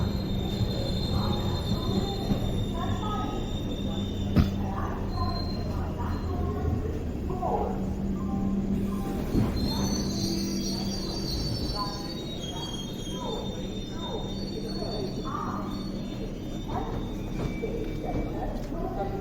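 A Chennai Express passenger train with LHB coaches rolls steadily along the rails between Bengaluru and Chennai, with a continuous rumble, rattling carriages and occasional high metallic squeals; faint voices are mixed in.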